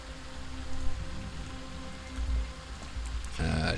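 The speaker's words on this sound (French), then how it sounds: "Et il pleut un petit peu là quand même." Steady rain falls in Project Zomboid, a soft continuous hiss of moderate loudness with a low rumble underneath, ending with a brief sharper game sound.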